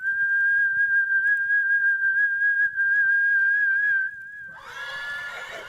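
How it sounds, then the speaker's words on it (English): A long, sustained human whistle holds one steady high pitch for about four seconds, then breaks into a brighter, airier burst at the end, loud and close with nothing else around it. "Ériú turned and sent a long, trilling whistle into the echoing hills."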